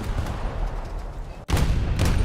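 Secondary guns of a Baltimore cruiser firing in a naval warfare game: a dense, loud, continuous roar of rapid shots that cuts out for an instant, then returns just as heavy.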